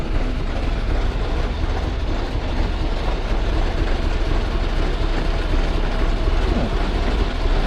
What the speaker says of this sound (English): This, by the looks of things, is a traction engine, and it's a John Fowler.